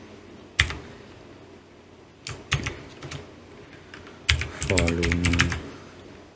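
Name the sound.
typing Python code on a computer keyboard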